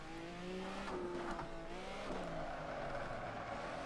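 A Ferrari 312T Formula One car drifts in the Assetto Corsa racing simulator, its engine droning steadily at high revs with pitch sliding down over a few seconds, no voices over it.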